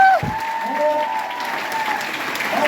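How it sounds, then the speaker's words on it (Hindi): An audience at a direct selling seminar applauds loudly and continuously, a dense wash of clapping that holds steady from start to end. "पहले तो जोरदार तालियां हो जाए।"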